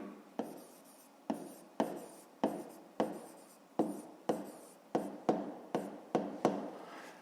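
Pen writing by hand on paper during a maths exercise, a quiet series of about a dozen short scratchy strokes at an uneven rhythm, close and alone.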